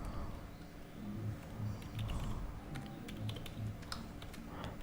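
Close keyboard typing as JavaScript code is entered, a quick irregular patter of key clicks over a low steady background hum, with no talk.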